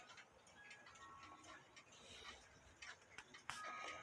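Regula 70 cuckoo clock movement ticking under its specified weight, a quiet, regular tick-tock repeating steadily and close by against a faint room background.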